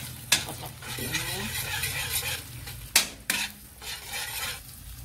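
Kwetiau noodles stir-fried in a home kitchen pan, with soft continuous sizzling under repeated scraping strokes of a utensil and a few sharp clinks against the pan.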